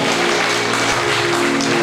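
Applause from a church youth rally crowd, a dense continuous clatter of many hands clapping, steady and fairly loud throughout, no voices standing out.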